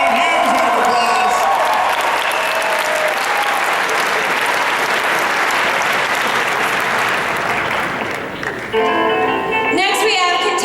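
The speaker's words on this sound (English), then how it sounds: "Give it up for a huge round of applause." Sustained applause from a convention audience at a cosplay competition, loud and dense for about eight seconds before thinning as an announcer's voice comes in near the end.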